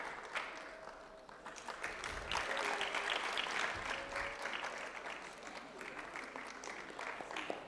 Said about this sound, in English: A round of applause for our valedictorian.